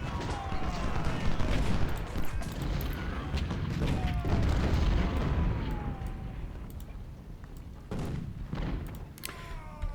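Artillery booms in the Civil War strategy game Ultimate General: Civil War, shelling skirmishers: a dense, continuous barrage of overlapping blasts and rumbles with brief whistles, steady and loud for about ten seconds.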